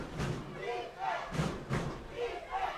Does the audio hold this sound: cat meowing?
no